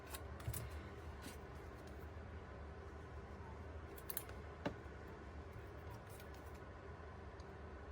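Scissors snip through a sheet of paper to cut it in half for an inked scrapbook page. The crisp, close cuts come in a few bursts, and a voice talks faintly in the background.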